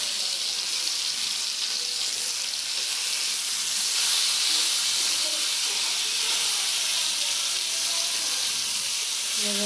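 Rohu fish frying in hot oil in a pan as a loud, constant sizzle and hiss that runs unbroken throughout, with no voices over it.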